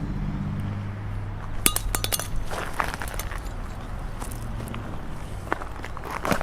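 Vector Optics Frenzy Plus red dot sight slams down in hard drop tests, several sharp hard clacks and clinks scattered over a few seconds, close and distinct above a low background hum.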